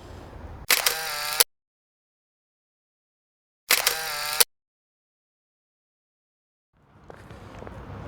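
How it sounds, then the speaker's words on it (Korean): Two bursts of rapid camera shutter clicks, each a short fast series of snaps, taken during a morning walk in Central Park in Songdo, separated by silence, with faint outdoor ambience resuming at the end. "내가 자기 사진 한번 찍어줄게"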